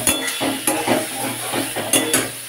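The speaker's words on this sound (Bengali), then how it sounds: "মশলাটাকে আলু পটলের সাথে আমি কষিয়ে নিচ্ছি।" Spice paste frying with chunks of potato and pointed gourd in a pan for a vegetarian mung dal dish, a steady close sizzle broken by repeated scraping stirs of a spoon against the pot, with no voices.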